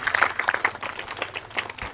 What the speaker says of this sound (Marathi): एकदा जोरदार टाळ्या होऊन जाऊ द्या त्यांच्यासाठी.